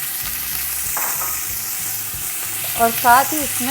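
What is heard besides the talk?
meat frying with onions in pot for Kabuli pulao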